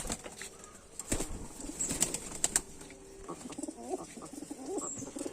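A pigeon is let go from the hand near its cage, and a few sharp bursts of wing flaps clatter up close, followed by softer fluttering and low cooing from nearby birds.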